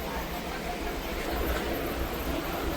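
A DMU passenger train running from Ambala Cantt via Chandigarh to Daulatpur Chowk in Himachal Pradesh rumbles steadily with a continuous low drone of motion and no clear breaks.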